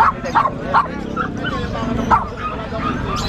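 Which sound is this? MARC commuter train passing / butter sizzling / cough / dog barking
dog barking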